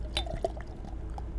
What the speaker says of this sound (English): I always pour my beer into a glass